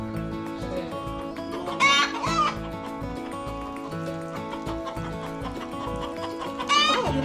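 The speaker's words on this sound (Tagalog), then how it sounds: "Oh, look at that chicken." Chickens on a farm in Al Musannah, with a few clucks and squawks standing out near 2 and 7 seconds over a busy, tonal background of other sounds.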